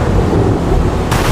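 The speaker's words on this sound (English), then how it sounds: "thunder roared as if warning of a diabolical birth" A storm's thunder rolls as a loud, continuous low roar that fills the whole stretch without a break, with a brighter rushing edge near the end. No one speaks.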